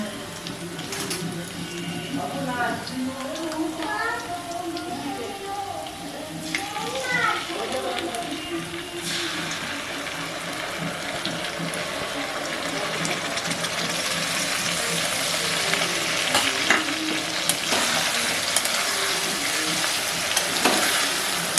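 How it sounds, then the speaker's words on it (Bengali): Onions and potatoes fry with spice paste in a pan, a loud continuous sizzle that swells louder toward the end, punctuated by clinks of stirring, while someone talks over it and birds or children are heard faintly early on. "এবার আমি এর মধ্যে পেস্ট করা মশলাটা দিয়ে দেবো"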